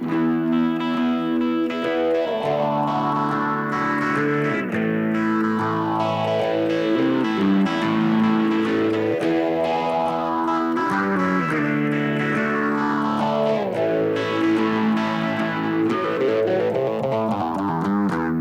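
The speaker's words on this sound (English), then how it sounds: "the next one along is Phase 95 MXR, probably one of my favourite. Great pedal." Distorted electric guitar chords through an MXR Phase 95 phaser pedal, sweeping in slow, regular rising and falling waves, washed in reverb, played continuously.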